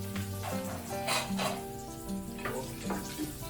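Garlic and onion fry in a pan after ginger for ginataang pagi, stingray in coconut milk. Soft hissing bursts rise and fall over a steady tonal hum, with light utensil scrapes.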